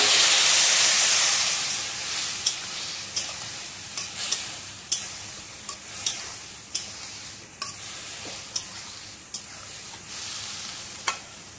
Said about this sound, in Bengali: এবার আমি তরকারিটা ঢেলে দিচ্ছি।